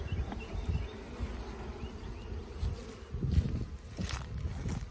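Honey bees buzz in a dense, steady drone as they are shaken from one hive box into another during a hive split, with soft knocks and handling bumps underneath.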